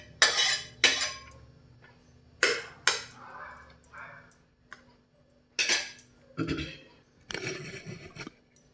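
Green chilli peanut chutney scraped from a pan into a dish, with intermittent spoon clinks and scrapes against metal in short separated bursts, close and moderately loud, with quiet gaps between.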